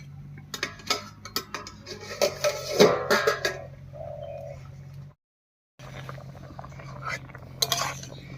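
Clinks and scrapes of a metal lid and utensils on a cooking pot, close by in a kitchen, then a short silence before more clattering. Birds chirp faintly in the background.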